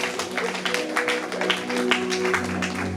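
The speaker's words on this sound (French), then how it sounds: "Est-ce qu'on peut applaudir encore?" A church congregation claps in a quick, irregular patter of applause, with a sustained musical tone running underneath.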